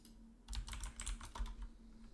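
A password is tapped out on a computer keyboard in a quick, uneven burst of close, crisp keystrokes over a quiet background hum, with no talking.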